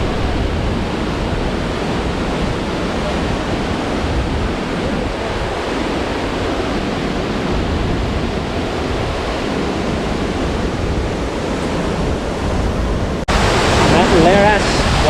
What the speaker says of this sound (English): I started hearing the roaring of the waterfall